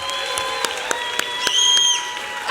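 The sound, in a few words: audience applause for the actors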